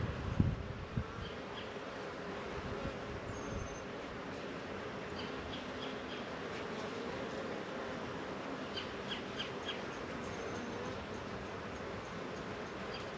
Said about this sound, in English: There's a bee in there doing something.